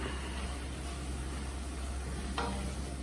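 Masala being stirred as it fries in oil for ragda, a steady close sizzle with scraping stirs through it and one brief sharper scrape near the end, no talking.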